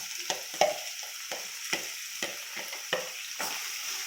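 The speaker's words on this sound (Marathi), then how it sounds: "कांदा छान तांबूस कलर येईपर्यंत भाजायचा आहे, तेल सुटेपर्यंत" Chopped onions fry in oil in a pan over low heat for paneer masala, a soft steady sizzle broken by regular scraping stirs of a spatula.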